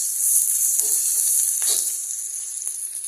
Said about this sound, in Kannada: ಆನಂತರ ಹಸಿ ಶೇಂಗಾ ಚೂರು, ಎಲ್ಲ ಫ್ರೈ ಮಾಡ್ಕೊಳ್ಳಿ.